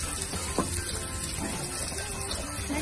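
Garlic fries in oil with a soft, continuous sizzle that stays steady and fairly quiet, broken by a few faint clicks from the pan.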